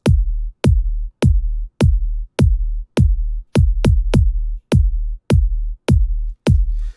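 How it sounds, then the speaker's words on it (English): A deep electronic Kwaito kick drum thumps alone in a steady repeating pattern, about thirteen punchy hits with short decays and a quick double hit midway, loud and clean with nothing else underneath. "This is almost like a common Kwaito kick."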